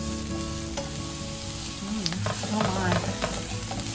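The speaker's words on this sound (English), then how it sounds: "So we saute for a little while" Sausage and greens sautéing in a pan, a steady crackling sizzle with occasional stirring scrapes, close and fairly quiet, with a brief spoken exclamation over it.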